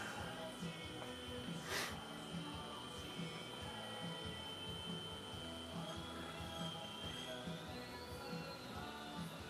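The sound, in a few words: N scale model train motor whine on high-frequency PWM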